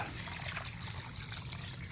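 Water runs and trickles steadily into a container for soaking kaong palm fruit overnight, a continuous close splashing flow with no speech.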